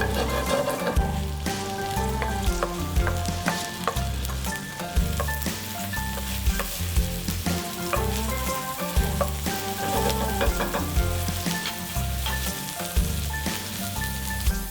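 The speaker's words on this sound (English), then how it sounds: "Now we can put inside the onion." Chopped onion frying in a pan for a tomato and tuna pasta, a loud continuous sizzle with scraping stirring strokes throughout and no voices.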